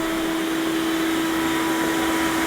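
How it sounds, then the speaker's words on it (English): A vacuum cleaner runs steadily, sucking up sand and crud from the interior of a 1969 Camaro, a loud continuous whooshing roar with a strong steady whine and no pauses. "it's satisfying to you know, like here, stuff going through a vacuum"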